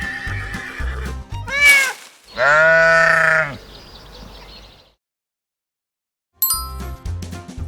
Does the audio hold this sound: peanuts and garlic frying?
no